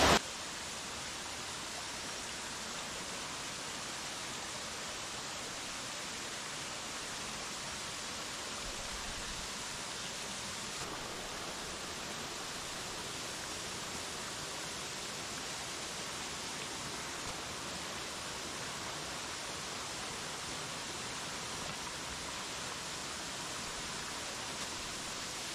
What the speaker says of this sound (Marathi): आता एक इथेवरती जो धबधबा कोसळतोय